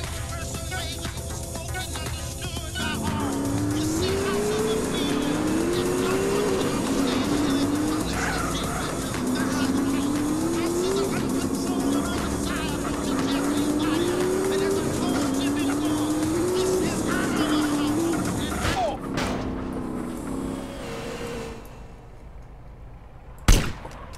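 Cars race in Grand Theft Auto: San Andreas during the Back Road Wanderer race, a loud engine revving up and shifting through gears repeatedly, continuous and close, ending with a sharp bang.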